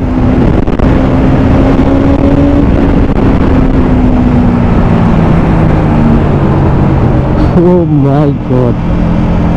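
Motorcycles on a group road ride pass by, a loud continuous engine drone with shifting pitch and a rising rev near the end, under excited talk.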